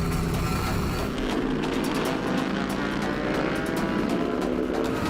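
Yamaha YZF R3 motorcycle fitted with a Banshee engine racing on a track: a loud, steady, high-revving engine drone held at full throttle close by, with a wind-buffeted rush and no pauses.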